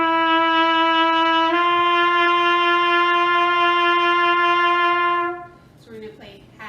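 A trumpet holds a long steady brassy note from open G, then shifts pitch slightly partway through and sustains for several seconds, played alone and ending with a faint trailing bit of sound.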